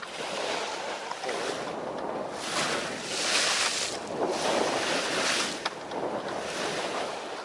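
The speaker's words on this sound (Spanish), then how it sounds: "de vez en cuando viene una ola impresionante, de más de 2 metros, que la veo que llega por encima de la proa cuando llega" A sailing boat crossing open sea in Greece toward Chios is hit by large waves: a steady loud wash and roar of surf with strong wind buffeting the microphone and rising surges, with no talking.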